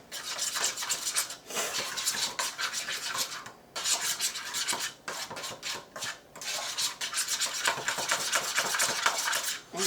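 Butter and sugar being mixed together in a bowl for a lemon loaf: a steady series of close, raspy scraping and rubbing strokes with brief pauses between them, clear and alone.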